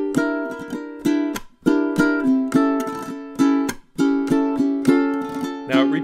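A ukulele strums a flamenco-inspired rumba pattern with a C melody, sharp rhythmic chord strokes repeating in a steady, lively groove, close and clear with no talking.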